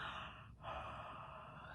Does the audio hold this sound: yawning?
yes